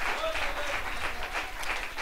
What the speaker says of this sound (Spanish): Un aplauso al Señor, gloria a Dios.